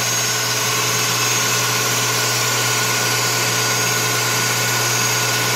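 A metal lathe runs steadily while machining a pop rivet to shorten it, giving a constant loud motor hum and whir with no breaks or talking.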